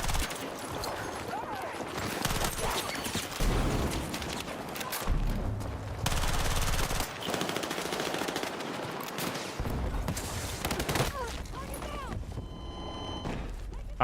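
Rapid automatic gunfire from a high-fire-rate weapon in the Battlefield 6 video game, loud continuous bursts with booms and game sounds throughout, with voices talking over it.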